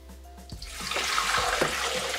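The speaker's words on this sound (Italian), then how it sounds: "Iniziamo la ricetta mettendo all'interno del boccale l'acqua" Hot water is poured into a Thermomix bowl as a steady close gushing rush that rises after a short start and keeps flowing to the end.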